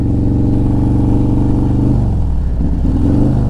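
A 130 cubic inch Harley-Davidson Road Glide V-twin roars loud and close throughout, its deep engine note holding steady, then dipping and climbing again as the revs rise through the gears.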